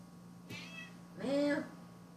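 A cat gives two short, close meows, the second longer and louder, over a faint steady hum.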